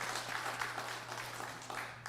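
Applause from a church congregation during a Sunday worship service, welcoming visiting members, with steady clapping filling the room across the whole stretch at moderate volume.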